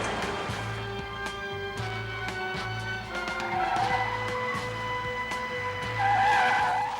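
Car tyres screech repeatedly as a vehicle swerves and skids in a TV action scene, loud engine roar building under sharp squeals, with a couple of squeal bursts rising near the end.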